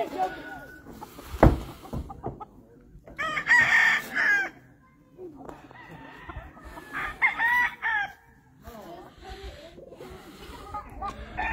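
Roosters crow repeatedly in drawn-out calls in a farm rooster yard in Oklahoma, several overlapping, with clucking fowl and a brief thump between them outdoors.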